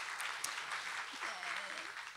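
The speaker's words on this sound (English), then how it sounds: "will you all give a big round of applause for the sales family" A church congregation at an Easter service gives a round of applause, a fairly soft, even patter of clapping with voices murmuring underneath throughout.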